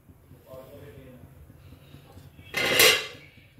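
A metal lid lifted off a pot of cake steaming on the stove, a single close clanking scrape near the end, with a faint voice underneath earlier.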